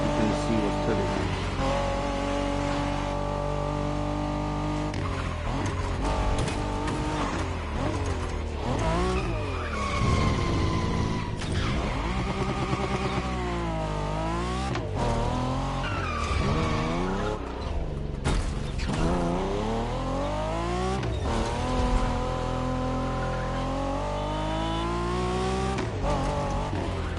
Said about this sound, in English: This car don't drift for shit.